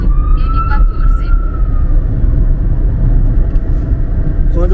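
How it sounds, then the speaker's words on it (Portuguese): An ambulance siren passes on a road in Portugal, heard from inside a moving car as a faint wavering wail over loud engine and road rumble. "Quando passa uma ambulância"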